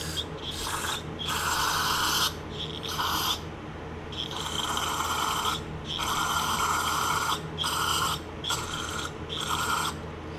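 Carb cleaner sprays in repeated hissing bursts through the carburetor of a Scag Pro V walk-behind mower. Several short and longer blasts come close up, separated by brief pauses, with no talking.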